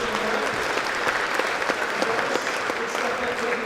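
Continuous crowd applause at a hackathon prize session, even and fairly loud with many overlapping claps and no pauses.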